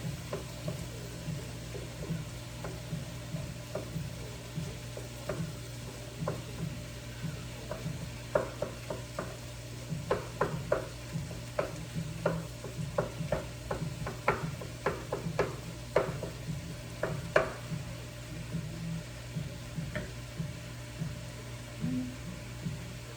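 Turkey fries in a pan with a low, steady sizzle, while a run of light scrapes and taps marks the pieces being stirred and flipped, close and fairly quiet.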